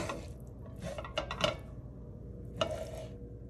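A spoon stirs ground beef mixed with taco seasoning in a pan, giving a few scraping and clinking strokes at a moderate distance with quiet background between them.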